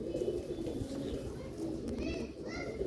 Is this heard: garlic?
no